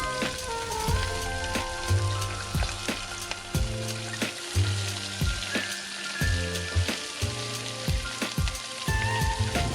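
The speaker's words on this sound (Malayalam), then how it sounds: "അരിഞ്ഞു വെച്ചിരിക്കുന്ന ഇഞ്ചി, വെളുത്തുള്ളി, പച്ചമുളക്, സവാള ഇത്രയും സാധനം ഇട്ട് കൊടുത്ത് ഒന്ന് നന്നായിട്ടൊന്ന് വഴറ്റിയെടുക്കാം" Chopped ginger, garlic, green chili and onion sautéing in a pan for a Kerala-style pork dry fry, giving a steady close sizzle with scattered crackles and occasional stirring scrapes, no voices.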